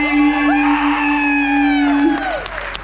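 Crowd on a group vloggers' cruise cheering, whooping and yelling loudly and continuously, with a long sustained shout running through the noise, close and dense.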